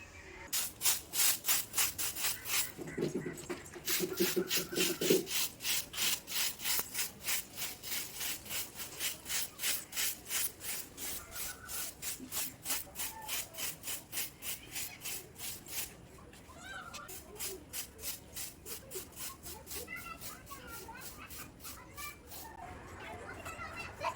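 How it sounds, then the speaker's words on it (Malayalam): A broom sweeps a home yard in quick, steady strokes, producing close rhythmic scratchy swishes at a regular pace throughout, with faint background sounds. "അപ്പം ഞാൻ മുറ്റമൊക്കെ ഒന്ന് വേഗം വേഗം അടിച്ചു വരട്ടെ"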